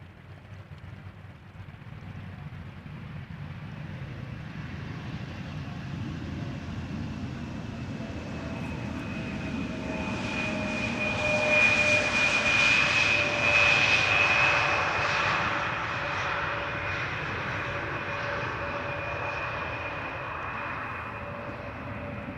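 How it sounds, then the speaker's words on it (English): Embraer 175 jet touching down at Amsterdam Schiphol Airport, a sustained engine roar with a whining tone that swells to a peak midway and then slowly eases, heard from a distance with no talking. "Embraer 175 arriving from Teesside or Darlington."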